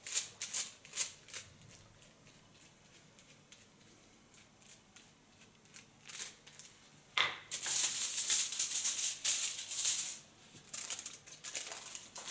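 A hair foil is crinkled and folded during a lighter blonde hair colouring. Light crackles early on give way to a loud, sustained crinkling burst near the end.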